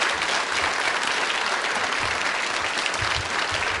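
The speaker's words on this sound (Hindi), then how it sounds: "तालियां एक बार अपने लिए बजाइए आप जोरों से।" Steady, dense applause from a school audience of students and faculty at a quiz show, a continuous roar of many hands clapping that fills the room evenly with no talk over it.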